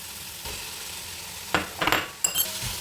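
Sliced onions fry for beef biryani under a soft, steady sizzle, with a spoon scraping and clinking against the pan in short bursts near the end.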